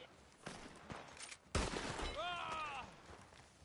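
Several rapid pistol shots ring out in the video game Red Dead Online as a player fires dual pistols, fairly faint and mixed with other in-game noise.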